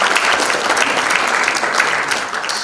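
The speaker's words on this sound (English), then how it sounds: "Let's clap for them." A conference audience at an arbitration week event in Nairobi claps in a dense, steady round of applause that holds at full strength for a few seconds, with no voices over it.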